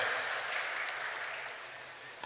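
Audience applause for director Anil at a Sankranthiki Vasthunam musical night, a steady broadband wash of many hands clapping, moderately loud and sustained, tapering slightly toward the end.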